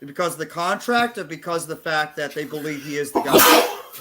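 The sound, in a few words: sneeze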